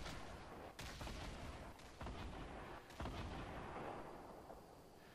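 Rockets and gunfire in a Fortnite match, sounding as a dense, continuous barrage of blasts and shots with sharp louder impacts near the one-second, two-second and three-second marks, with no talk over it.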